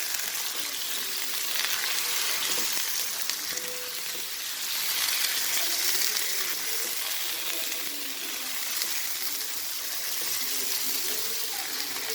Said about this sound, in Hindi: चिकन भी साथ हल्का सा जैसे फ्राई होने वाला हो जाएगा।